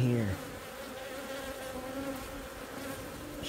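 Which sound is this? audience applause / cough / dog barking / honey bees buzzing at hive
honey bees buzzing at hive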